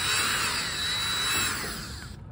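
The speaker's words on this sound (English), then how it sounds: "I've got a quarter inch drill bit I'm going to use just to get these out of" A power drill with a quarter-inch bit backs screws out of the lid of a home air conditioner condenser, a loud steady high whine that slows and stops abruptly near the end.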